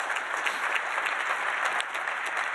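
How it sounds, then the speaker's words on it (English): Steady, dense applause from a large audience at the 2018 EcoDistricts Summit in the Twin Cities, a continuous wash of clapping throughout, fairly close and even in loudness. "Give him a round of applause as well."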